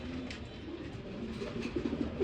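A semi-adult Red Lahori show pigeon with feathered feet coos softly and repeatedly, low and near, over a light background hum.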